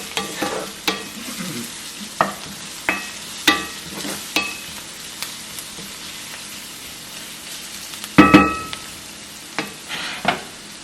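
Garlic frying in a pan for stuffed peppers with ground beef and potato: a steady sizzle broken by regular scraping stirs and clinks of a utensil, one louder clatter near the end, close up.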